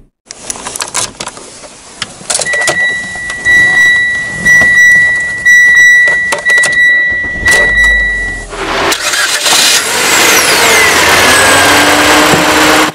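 A Mitsubishi Xpander Cross engine cranks and catches with a sudden loud roar, then keeps running steadily after a stretch of mechanical whirring and beeps.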